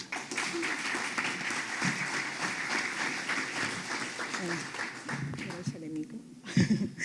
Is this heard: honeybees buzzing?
no